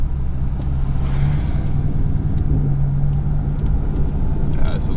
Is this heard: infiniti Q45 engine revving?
yes